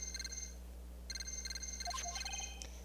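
A transceiver rings in the video game Phoenix Wright: Ace Attorney Justice for All, repeated bursts of a bright electronic trill over a steady low hum, followed by short chime-like blips, with no voices.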